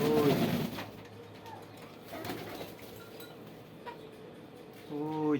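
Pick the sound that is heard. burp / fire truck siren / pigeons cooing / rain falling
pigeons cooing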